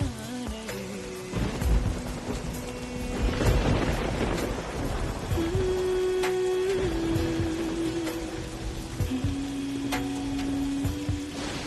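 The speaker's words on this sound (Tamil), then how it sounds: "மழை வர மாதிரி இருக்கு" Heavy rain pours steadily while rolls of thunder rumble through, with a sustained hum running beneath the downpour and no voices.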